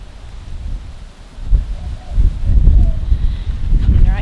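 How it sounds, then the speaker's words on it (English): Strong wind buffets the microphone outdoors in a butterfly garden, coming in irregular low rumbling gusts that rise and fall across the clip. "It's really windy, so I hope you can hear me okay."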